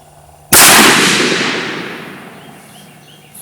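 A single sharp, loud rifle shot from a .204 during a velocity test with Sierra 39-grain Blitz King bullets and CFE223 powder, followed by a long fading echo and quiet afterward.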